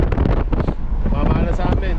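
Strong wind gusts buffeting outdoors along a roadside in Batangas City, a steady loud rush with heavy low rumble across the whole stretch, and voices talking now and then underneath.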